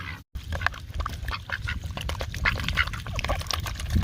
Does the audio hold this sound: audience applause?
no